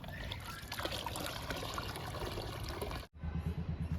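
Homemade liquid fertilizer trickles and pours onto potted plants in a home garden, a soft steady dribble that stops abruptly near the end before quieter outdoor sounds.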